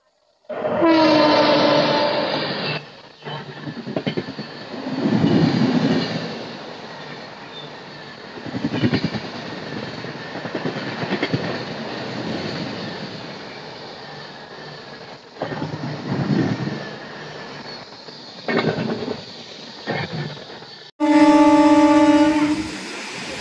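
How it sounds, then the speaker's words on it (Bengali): The 12836 Bengaluru–Hatia Superfast Express passes by a station platform with a sustained rumble of wagons that swells and fades, and loud horn blasts sound at the start and again near the end. "সামনে থেকে আসছে 12836 বেঙ্গালুরু হাতিয়া সুপারফাস্ট এক্সপ্রেস"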